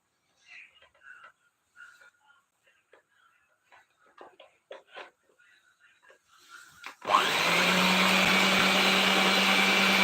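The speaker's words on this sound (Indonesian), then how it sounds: "Nah ini langsung kita mixer aja ya, di telur, gula sama TBM-nya." Light clicks and handling noises come first, then an electric hand mixer starts suddenly and whirs loudly and steadily, beating eggs, sugar and TBM emulsifier for a sticky rice cheese sponge cake batter.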